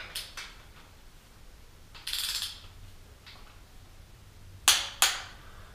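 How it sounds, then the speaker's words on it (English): A torque wrench tightens a bolt on a 2002 Dodge Dakota 4.7L V8 engine to 20 foot-pounds during a rebuild: scattered soft ratcheting clicks, then two sharp, close clicks near the end as it reaches torque. "now I'm just going to crank it down to 20 foot-pounds"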